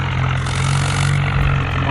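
A tractor engine in a video game drones with a steady low hum and a slight shift in pitch near the end, loud and continuous without pause.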